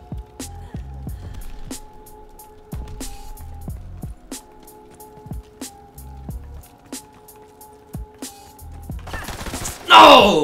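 Rapid bursts of submachine gun fire in Call of Duty WW2, sharp shots repeating in fast clusters over a steady game soundtrack, with a loud burst of noise at the end.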